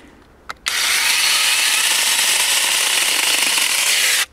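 A Narion 21V 3A cordless 10-inch electric chainsaw cutting firewood, starting after a brief click and then a steady, loud, high-pitched whine of the chain through the wood for nearly four seconds before stopping abruptly.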